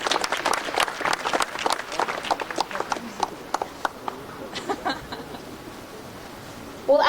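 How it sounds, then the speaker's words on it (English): An audience in a Sydney stadium claps for Rivaldo and the Football Australia CEO, a dense burst of applause that thins into scattered claps before fading. "a round of applause for Rivaldo and our CEO of Football Australia, James Johnson"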